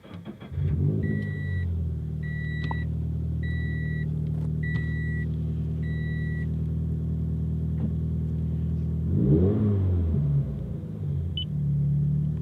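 A 2019 Toyota 86 TRD Special Edition with manual transmission starts up near the listener: a steady low engine idle rumbles throughout, with a brief rev swelling near the end.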